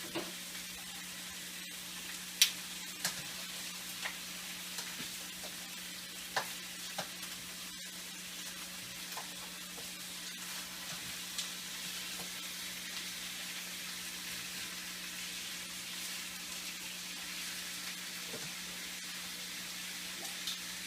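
Morita chilies fry in a pan for a beef soup, a constant low sizzle with faint scattered pops and clicks over about twenty seconds, with no talking.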